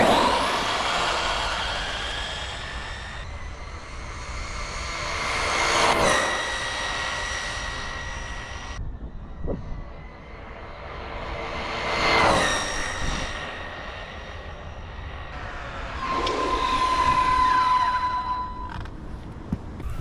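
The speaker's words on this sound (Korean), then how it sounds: "먼저 실제 주행을 통해 이 차량의 성능을 보여드릴게요. 그럼 온로드부터 시작해 보겠습니다." An Arrma Mojave 1/8-scale RC car, an off-road model built on a buggy base, drives on pavement. Its high-pitched electric motor whine rises and falls in three passes, swelling loud up close and fading away in between, with no talk.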